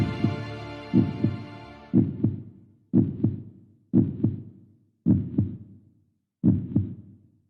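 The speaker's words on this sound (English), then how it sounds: "heartbeats start" Heartbeat sound effect: seven deep, close double thumps at a steady pace of roughly one per second, each with a booming decay, over a faint hum that fades after the first beats.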